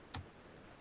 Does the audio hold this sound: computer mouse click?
yes